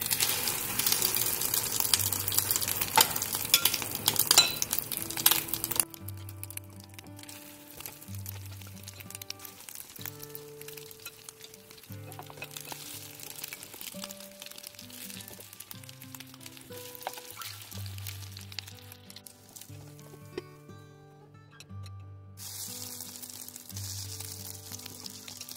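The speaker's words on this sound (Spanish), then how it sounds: "aquí ya está bien caliente el sartén, así es que vamos a agarrar una cucharada así de la carne y vamos a hacer varias tortitas" Shredded beef patties spooned into a hot pan, frying with a steady low sizzle and crackle, with a short louder burst at the start and some faint clinks; no voices.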